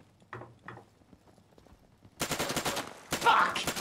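Gunfire in the Insurgency shooter game, with a couple of faint distant shots giving way to loud, close rapid bursts of automatic fire near the end.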